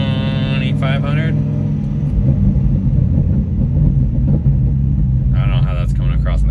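A stock Dodge Ram SRT-10 pickup with a Viper V10 engine rumbles deep and loud up close, held at around 2,500 rpm with crackles through the exhaust, while someone talks over the start and end.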